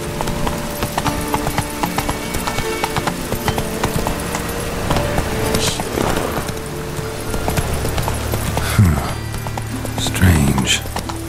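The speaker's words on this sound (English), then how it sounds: "Whoa there, Roach." Horse hooves clip-clop steadily in The Witcher 3 on PS4, with a neigh or two and game ambience throughout, while a voice speaks over the hoofbeats.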